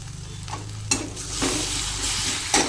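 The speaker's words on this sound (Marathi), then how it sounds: "त्याच्यामध्ये आहे ना आपण कोथिंबीर कापून घेतलेली टाकूया." Chopped coriander hits a frying soybean curry, and a close, steady sizzle follows, broken by a few sharp stirring scrapes and spatula knocks against the pan.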